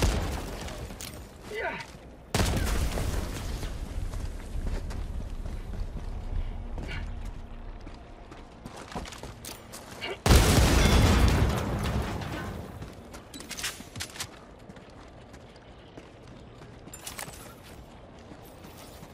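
A grenade explosion in the video game Helldivers, with two heavy booming blasts spaced several seconds apart and a low rumble trailing each one, while a voice speaks briefly in between.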